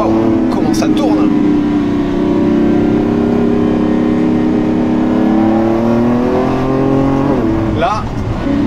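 A Lamborghini Revuelto's 1015 hp V12 hybrid engine, paired with a new dual-clutch gearbox, revs hard and close, its loud, rising and falling roar filling the whole stretch, with an excited voice briefly heard over it.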